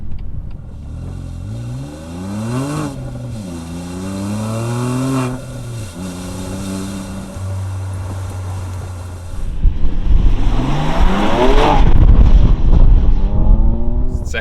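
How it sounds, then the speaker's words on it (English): A BMW M2 Competition with a Remus exhaust revs hard through rising gear pulls at full throttle, pitch climbing and dropping between shifts, then a loud roaring surge of acceleration with wind rush. "Second gear, valves closed. Right, go past him and foot on the floor."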